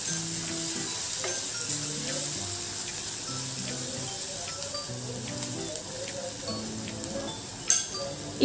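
Chopped onion with a spoonful of ginger garlic paste sizzles steadily in a hot pan, a continuous frying hiss with occasional spoon clinks as it is stirred, under soft background music.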